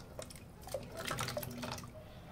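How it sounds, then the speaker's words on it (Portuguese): Potatoes drop into a pot of water on the stove to cook, giving a brief run of soft splashes and drips up close, with no talk. "Então vamos colocar todas as batatas aqui,"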